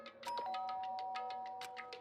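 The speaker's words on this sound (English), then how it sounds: "Togami stood in front of her door, not making a sound, and pressed the doorbell." A doorbell rings in the Danganronpa video game: a clear electronic chime tone sustained over a run of soft, evenly spaced ticking clicks, close and moderately loud, with no talking.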